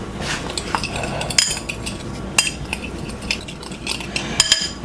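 A spoon stirs and scrapes seasoning together in a bowl for garlic butter salmon, with quick metallic clinks and scrapes in an uneven rhythm, close and fairly loud, and no talking.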